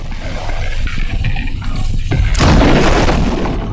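A deep rumbling boom erupts midway in the video game The Last Caretaker, followed by a loud crackling, hissing burst that lingers and slowly settles.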